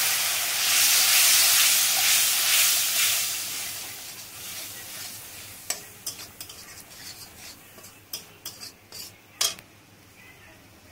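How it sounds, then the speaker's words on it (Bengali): Mustard tilapia fish curry boiling in a pan, starting with a loud steamy hiss that fades into quieter bubbling, punctuated by a series of sharp clicks and taps near the end. "এবার খুব সুন্দর ঝোলটা ফুটছে"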